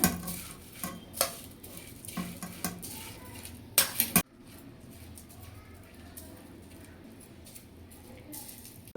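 A spoon stirs jaggery water and grated coconut in a pot, with clinking scrapes against the metal for about four seconds before settling into a quieter background, with a faint voice nearby.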